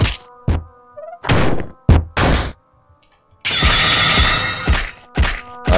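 Normal attack hits in the video game LISA: The Painful RPG land as a run of blunt thwacking impacts, several short bursts and one longer crunching crash, over a faint steady game tone.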